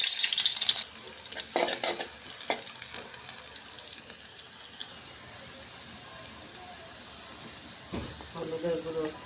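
Onions hit hot oil for a fish curry, giving a steady high sizzle with a few clattering knocks from the pan early on and a faint voice near the end.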